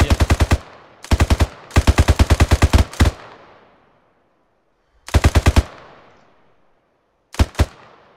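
Bursts of automatic rifle fire in the military game Arma 3, sharp loud rapid volleys separated by pauses with echoing decay, including a couple of single shots near the end.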